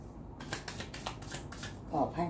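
Tarot cards are shuffled close by during a love-themed reading, giving quick papery riffles and flicks over a few seconds, with a voice speaking softly alongside.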